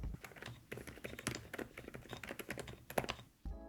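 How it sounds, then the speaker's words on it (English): Rapid typing on an MCHOSE x Unbox Therapy UT98 silent keyboard: a close, quiet run of soft muted keystrokes in uneven bursts, with no voices, ending in a brief pause. "it's a keyboard that is completely cool-looking yet extremely silent"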